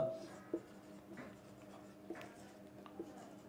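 Faint, scratchy writing on a board during a physics lesson, with a few light taps at irregular intervals under quiet room tone.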